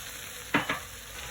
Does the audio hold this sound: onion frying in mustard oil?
yes